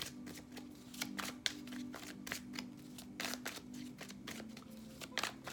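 Tarot cards shuffled in quick riffling bursts, a steady run of crisp papery flicks close by and fairly soft, with no one talking.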